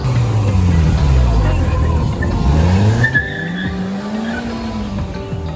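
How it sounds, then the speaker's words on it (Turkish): A three-wheeled Slingshot car revs and drives past close by on a Miami street, with tire squeal and a rising, falling pitch as it passes; a voice speaks over it. "Onlar slingshot deniyor yani. Üç tekerlekli araba."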